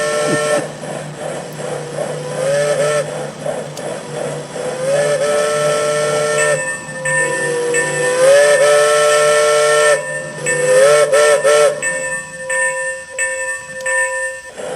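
A Digitrax DCC sound decoder running a steam program plays a model steam locomotive's whistle in several sustained tooting blasts over a steady hiss, loud and close, with no voices.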